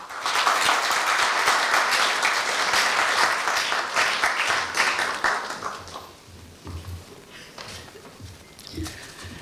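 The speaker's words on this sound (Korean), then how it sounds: "다 함께 배웅미 차장님을 큰 박수로 맞이하여 주십시오." A crowd applauds loudly at a staff retirement ceremony at Korea University, dense clapping that swells and then gradually thins out and fades over several seconds.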